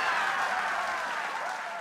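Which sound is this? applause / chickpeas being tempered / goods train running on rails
applause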